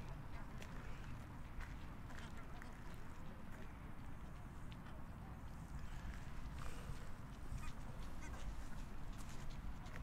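Ducks or geese quacking and honking on park pond water by the Pildammsparken tower, scattered calls over a steady outdoor wash of water and ambient noise throughout.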